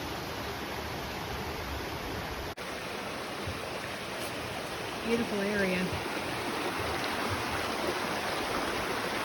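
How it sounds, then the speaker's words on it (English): A mountain creek runs past the Rapidan Camp area in Shenandoah National Park, a steady broadband rush of flowing water heard up close, with a brief spoken remark over it. "this is the beautiful mountain creek running in front of the Rapidan Camp area"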